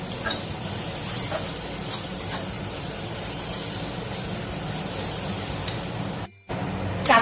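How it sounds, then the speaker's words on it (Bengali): Spice masala with cumin powder frying and being stirred in a pan for chicken bharta, a steady hissing sizzle with faint scraping strokes that cuts out briefly near the end before resuming. "খুব ভালো করে মশলাটা কষতে হবে।"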